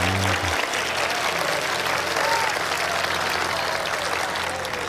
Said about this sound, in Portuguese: Sim, vamos aplaudir o Senhor